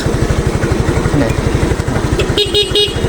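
A Suzuki motorcycle idles with a steady close putter, then its stock horn gives a few short beeps near the end.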